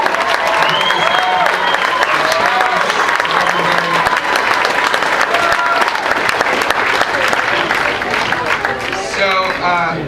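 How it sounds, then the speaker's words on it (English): Loud, sustained applause from a large crowd at a stand-up comedy show in Chanute, Kansas fills the whole stretch, dense clapping with scattered whoops and voices mixed in. "Can we have one more round of applause for the wait staff and for the house crew?"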